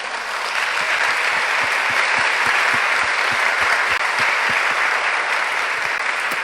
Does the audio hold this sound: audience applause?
yes